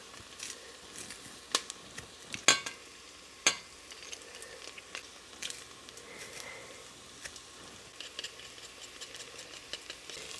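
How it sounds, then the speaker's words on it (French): Onions and garlic sauté in a pot for a broccoli cheddar soup, a soft steady sizzle broken by sharp stirring clicks and taps from a utensil, close and quiet. "je vais faire revenir les oignons environ 3 minutes, jusqu'à temps que les oignons soient translucides"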